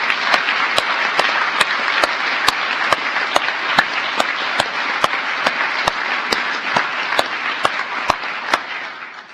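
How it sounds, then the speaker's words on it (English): Sustained audience applause fills an award ceremony hall, a dense, even wash of many hands with sharp, regular clicks cutting through it, steady and loud throughout. "let us give her a heartfelt round of applause"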